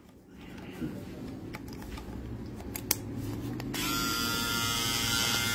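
An electric nose trimmer that comes with a shaving machine is handled with a few sharp clicks, then switches on into a close, steady high-pitched buzz.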